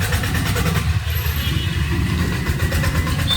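A motorcycle engine rumbles steadily amid street traffic, with a constant low throb and a continuous background of vehicle noise.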